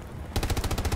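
Rapid machine-gun fire in a video game bursts in suddenly after a short quiet lead-in, a loud, close, steady rattle of evenly spaced shots with no talking.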